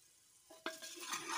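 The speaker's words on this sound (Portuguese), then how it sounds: "vou dar uma mexida" Onions frying in a pan are stirred, beginning with a quiet lead-in before a sharp scrape and a rising steady sizzle with bright spoon-on-pan clatter close by.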